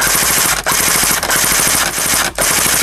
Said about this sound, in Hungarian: Sorozatlövés.